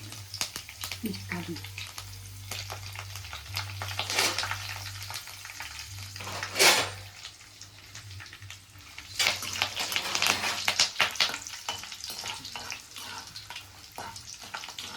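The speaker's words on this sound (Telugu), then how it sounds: "ఆవాలు అయితే బాగా వేయగాక ఎండు మిరపకాయలు అయితే వేస్తున్నారు" Mustard seeds, curry leaves and dried red chillies fry in hot oil with a continuous crackling sizzle that swells in the middle, a ladle occasionally clinking, a low hum behind and a voice talking over it.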